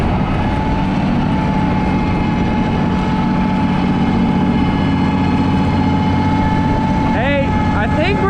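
A newly acquired rock crusher runs steadily at close range, a dense constant mechanical roar with a sustained tonal hum that holds for the whole stretch, while a voice speaks briefly near the end.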